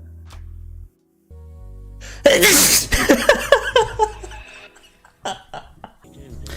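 A single loud, close sneeze bursts out after a quiet build-up, followed by breathy gasps and faint vocal sounds from the same person.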